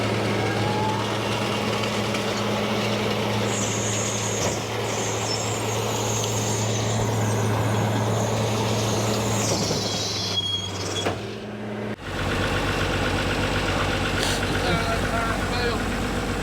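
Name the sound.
tractor running with PTO engaged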